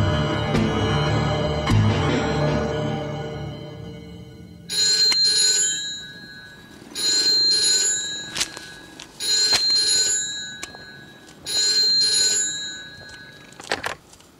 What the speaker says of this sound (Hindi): वैद्य ही रघु का फोन है, आओ।